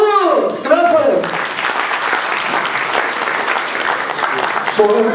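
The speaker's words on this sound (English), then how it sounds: "Clap for him." A crowd at a Pakistan Independence Day gathering in Dundee claps loudly and steadily for a doctor, and voices are heard briefly at the start and at the end.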